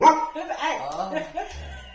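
A dog gives a few quick, close barks and yips that overlap with a person talking, the sounds fading out after about a second and a half.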